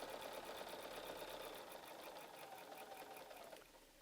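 Sewing machine stitching down a line on a quilt block, a steady rapid whirring hum running continuously for about three and a half seconds before slowing and quieting at the end.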